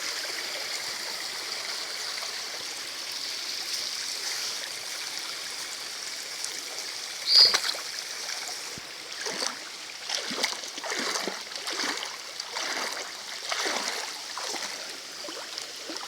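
Water flows steadily over the rock steps of the Serrinha waterfall in Carmo do Cajuru, a constant broadband rush with a few closer splashing gurgles in the latter half, no voices.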